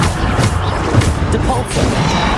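A Bombarda blast spell goes off in the Hogwarts Legacy video game, a dense booming burst amid continuous loud combat noise, with a voice present in the mix.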